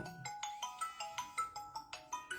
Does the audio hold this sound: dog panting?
no